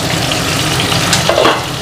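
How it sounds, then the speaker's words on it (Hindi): Chicken pieces fry in a pan for a butter masala, giving a loud, steady sizzle with brief crackling bursts near the end and no voices. "चिकन को मैं फ्राई करूँगी। और तब तक ये जब फ्राई हो रहा है"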